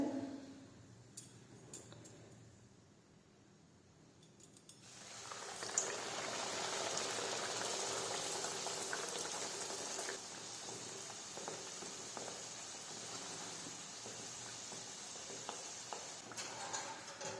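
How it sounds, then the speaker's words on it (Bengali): Stuffed kachori fry in hot oil in a wok, a quiet start giving way to a dense, steady bubbling sizzle that continues throughout with occasional faint clinks. "এবার এক এক করে এইভাবে সবগুলো ভেজে নেব।"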